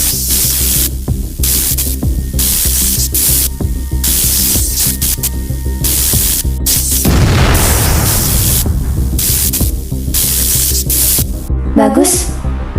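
A police station blows up in a video game: a sustained roaring explosion with crackling debris and hissing static, loud and dense throughout, ending in a short burst of lighter rattling.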